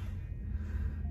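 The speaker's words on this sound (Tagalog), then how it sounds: "Hinihingal ako mga pre." Heavy, rough panting from a man out of breath after lifting and carrying heavy speakers, one short close breathy exhale with low rumbling background.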